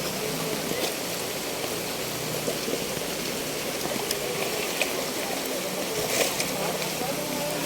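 Floodwater gushes through a river swollen by heavy rain, a continuous broadband roar of rushing water with rainfall mixed in, steady and fairly loud from start to end.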